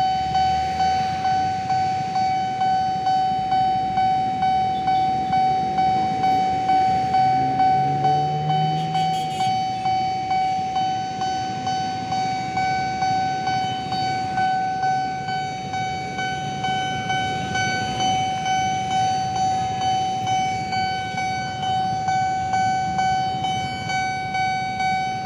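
An airport train running from Manggarai station toward Soekarno-Hatta Airport passes at speed, its steady rumble and a sustained high horn-like tone carrying throughout at close range.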